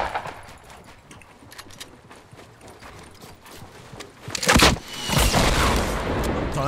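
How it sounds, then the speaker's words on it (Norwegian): Gunshots from other players echo in a Fortnite match, a brief loud burst of fire around the middle followed by sustained noisy shooting, with faint scattered sounds before it. "hører folk som skyter her"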